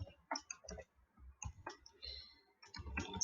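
Keys click on a computer keyboard in quiet, irregular bursts of close, soft taps, with a faint swell of sound at the end.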